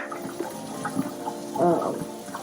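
Water gurgles and splashes through a new aquarium filter impeller as it is rinsed, a soft steady trickle with a brief louder surge near the end.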